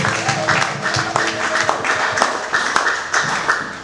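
A church congregation clapping in praise, rhythmic steady handclaps from many people filling the room for several seconds, with sung or spoken voices running underneath.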